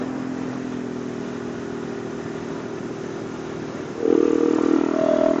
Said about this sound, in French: J'y vais en frein moteur quand même parce que.